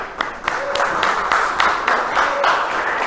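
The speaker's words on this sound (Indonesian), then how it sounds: "Oke anak-anak, kita kasih tepuk tangan untuk kelompok 1." A classroom of children applauds group 1, brisk scattered clapping filling the room at close range for a few seconds.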